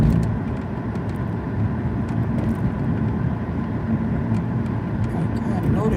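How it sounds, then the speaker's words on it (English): Car driving north along the Las Vegas Strip, a steady, close engine and road-noise drone running the whole way with city traffic murmur around it. "I'm driving north on the Vegas Strip"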